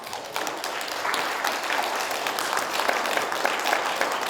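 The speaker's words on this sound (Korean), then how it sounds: "여러분들께서는 응원의 박수 부탁드립니다" An audience at a regional city alliance council meeting applauds in support during a performance for the 2025 APEC summit bid in Gyeongju, a dense, continuous burst of clapping that swells slightly after the first second and holds steady.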